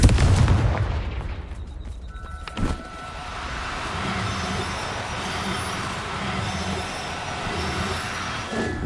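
A Confringo fire spell blasting in the Hogwarts Legacy video game, a loud booming burst at the start that fades into a rumbling roar with crackling, no talking.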